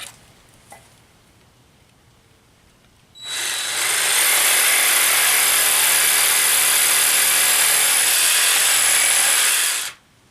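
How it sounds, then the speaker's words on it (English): A power tool cutting a slot for the saw blade into a wooden dowel, starting abruptly after a quiet moment, then whining loud and steady for about seven seconds before cutting off. "I'm going to make my cuts for the saw blade itself"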